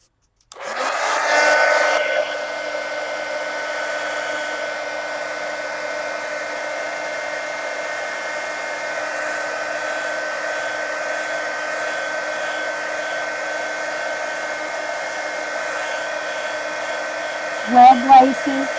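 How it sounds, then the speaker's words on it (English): A heat gun blasts hot air onto paint in a steady, loud, unbroken whoosh with a faint whine, running alone for about fifteen seconds before a couple of brief knocks near the end. "let me hit this with the heat gun."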